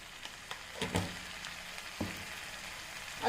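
Chicken biryani masala frying in a pan as garam masala is stirred in, soft sizzling broken by a few scraping stirs of a spoon against the pan, close and fairly quiet with no talk.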